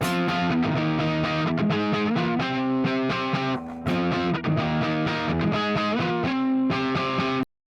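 A distorted electric guitar plays the chords and notes of a song, heavily overdriven and buzzy, steady and loud with a brief gap near the middle.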